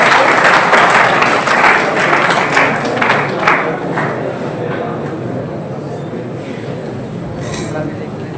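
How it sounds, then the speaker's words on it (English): A university conference audience gives a round of applause, with dense clapping that is strongest at the start and then thins and fades over several seconds. "Audience, please give him a good round of applause."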